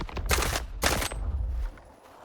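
A video game assault rifle in STALKER 2 fires two short bursts in close succession, loud and near, with echoing decay after each burst.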